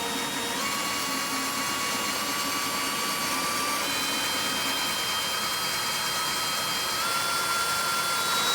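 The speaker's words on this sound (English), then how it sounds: "our 3/8 drill bit, drill through." A 3/8 bit drilling through a mounting hole during installation of a Blue Ox base plate on a 2017 Honda Fit, giving a continuous, close drill whine with slowly drifting pitch and no talking.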